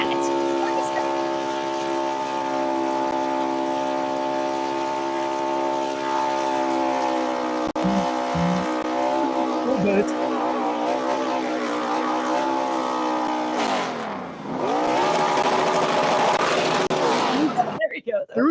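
A race car doing a burnout, its engine held at high revs in a loud, steady droning tone that wavers midway, then surges and revs again before cutting off near the end.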